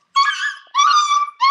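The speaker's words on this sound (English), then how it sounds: "hold on, my puppies are being really loud." Puppies whimper and yip in three loud, close, high-pitched cries with brief gaps between them, heard alone without talk.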